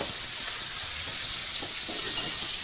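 Elk taco meat crisping in an already hot pan gives a steady, broad hiss of sizzling, close and even throughout, with no talking.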